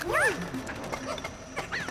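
A dog yips and whimpers in the video game Pikmin 4, two short high-pitched yelps, close and clear over a steady game background.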